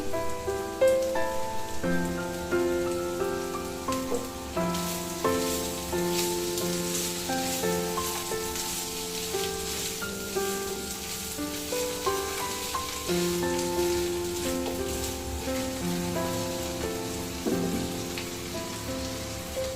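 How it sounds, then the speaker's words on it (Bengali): Potatoes fry in hot oil with a steady sizzle and crackle throughout, under constant background music with a clear melody. "আলুটা ভাজা হতে থাক"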